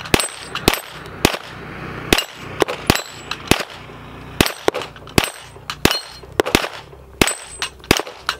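Roughly a dozen 9mm pistol shots with heavy 150-grain bullets fired from a compensated handgun, each a loud, sharp crack at an uneven pace, some in quick pairs, with short quiet gaps between and no talk.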